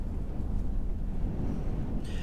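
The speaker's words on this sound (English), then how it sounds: "This ain't no hurricane, it's just wind." Strong wind gusts near 74 mph buffet the microphone in Jordan, Montana, a steady loud low roar with no pause, joined by a brighter hiss near the end.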